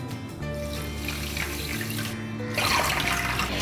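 Water poured into a pan holding sugar, two measured cups going in, a steady splashing run that swells louder toward the end, close by and alone.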